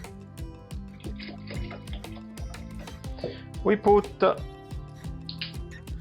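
Milk pours into warm cheese whey in a pot while ricotta is being made, a gentle liquid trickle swelling briefly into a fuller glugging splash, with a person talking over much of it.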